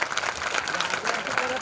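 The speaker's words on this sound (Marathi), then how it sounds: "सरांसाठी एकदा जोरदार आपल्या टाळ्या वाजवा" A crowd at a Marathi educational guidance lecture bursts into steady, dense applause, many hands clapping together close by, sustained through the whole moment with no pause.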